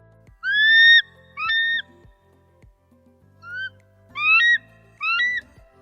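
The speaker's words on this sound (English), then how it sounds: "Here's a bald eagle." A bald eagle calls in a series of high, piping, chittering whistles grouped in short bursts with pauses between them, loud and close against a quiet background.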